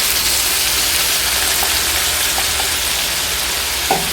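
A ground paste of cumin, coriander, ginger and green chilli frying in a pan with vegetables, producing a loud, continuous close sizzle with a faint scrape near the end.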